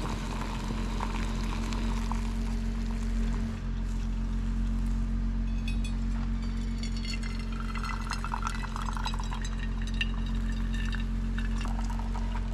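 Water is poured while coffee is being made on a Jetboil camp stove in a Jeep on a cold Colorado backcountry morning. The liquid trickles and splashes close by over a steady low hum, moderately loud, with no talking.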